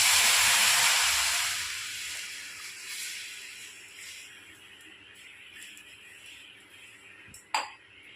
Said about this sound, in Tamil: நல்லா பால் காயிட்டுங்க.